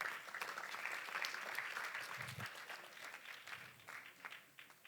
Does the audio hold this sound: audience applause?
yes